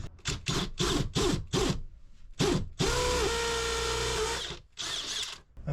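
A power drill bores a hole through mahogany plywood on a boat to fit a switch, starting in a run of short rapid bursts, then a longer steady whining drive before pulsing again, loud and close with no voices.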